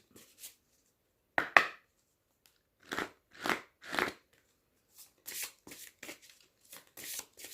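Angel oracle cards are shuffled by hand for a card reading, with short papery riffles and bursts separated by brief silences, close and fairly soft, and no talking.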